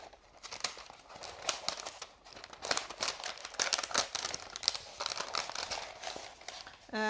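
Backing peeled off a sticky adhesive sheet for a tulip cross intarsia project, heard as close, continuous crinkling and tearing crackle with irregular bursts over about seven seconds, ending in a sharper rasp.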